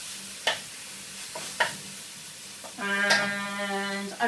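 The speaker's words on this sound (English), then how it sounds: "Okay, so keep this stir frying." Stir-fry with sesame seeds and almonds sizzling in a pan, with a few sharp scraping stirs of the utensil and a steady frying hiss that swells louder toward the end, up close and without talk.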